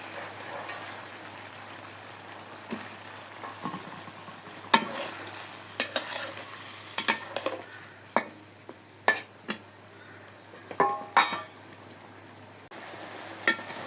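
Potato curry with tomatoes sizzles softly in a pan while a spoon stirs it, giving a low frying hiss broken by a series of sharp scraping and clanking strokes that grow more frequent, close, with no talk.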